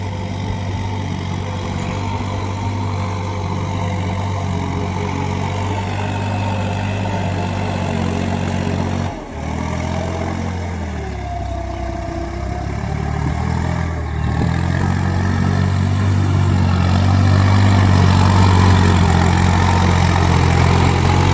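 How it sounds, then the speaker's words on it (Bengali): A power tiller tractor ploughs a muddy, waterlogged paddy field with a loud, steady diesel chug. It dips briefly midway, then labours harder, and no one speaks. "কাদা পানির ভিতরে ট্রাক্টর দিয়ে জমি চাষ করা হচ্ছে"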